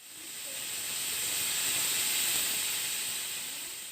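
A pressure cooker of beef lets off a steady, even hiss of escaping steam, rising slightly and easing off over a few seconds, heard alone and fairly close.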